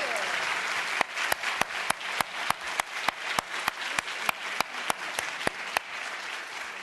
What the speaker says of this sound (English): before you clap,